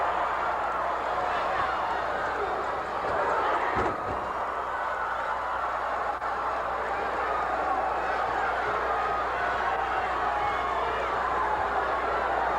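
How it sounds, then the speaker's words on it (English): A hot wrestling arena crowd roars steadily, a dense sustained wall of cheering and voices throughout, with a sharper burst around the middle and commentators talking over it. "Now listen to how hot that crowd is."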